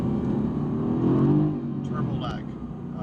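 A 2017 Mercedes-AMG GT S engine in sports exhaust mode gives a steady, loud low rumble that eases off, with a few faint crackles and pops afterward.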